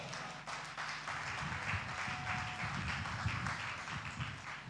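A church congregation at a Sunday service claps their hands together, a sustained dense patter of many hands with a faint voice underneath.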